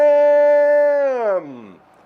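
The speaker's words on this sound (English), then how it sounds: "Look at this beautiful puppy." A puppy lets out a single loud, sustained howl that slides downward in pitch and trails off into a soft whimper, close to the microphone.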